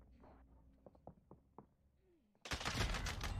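Oden assault rifle fire in the shooter Warzone: after a few scattered, muffled pops and a quiet stretch, a loud, dense close-range burst of gunfire erupts and holds to the end.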